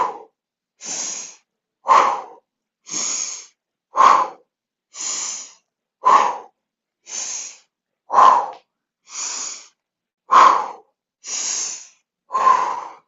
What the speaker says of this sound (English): we're going to do a huff and puff pumping breath